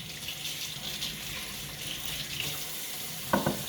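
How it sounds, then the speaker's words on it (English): Three eggs rinsed under a running warm kitchen tap, a steady close water stream hissing continuously with a brief splash or knock near the end, no talking. "he took 3 eggs and ran them under hot water, warm water, for a little bit"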